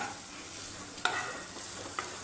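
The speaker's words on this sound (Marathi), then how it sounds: "तेलामध्ये फ्राय करून घ्यायचे आहेत" Paneer frying in hot oil for masala paneer in a home kitchen, a steady soft sizzle throughout with two brief clinks or stirs standing out, no voices.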